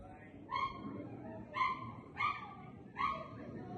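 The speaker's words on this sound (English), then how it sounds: "Excuse the dogs barking in the background" Dogs barking from a distance, four separate short barks spaced about a second apart over a steady low background hum, with no voices.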